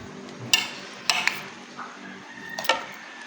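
Calamansi and vinegar mixture being stirred in a bowl, a few sharp clinks and scrapes of a utensil against the container at uneven intervals, close and fairly quiet with no talk.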